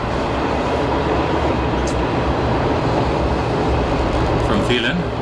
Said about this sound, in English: And this is coming back on the train